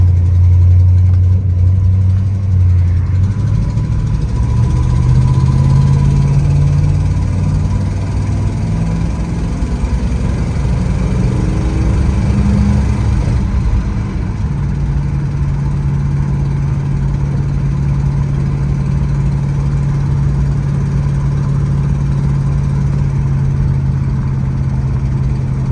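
A carbureted engine in a 1965 Plymouth Belvedere II runs steadily at a low idle, its throttle feathered with a brief rise in revs early on, then settling into a constant, close, unvarying hum.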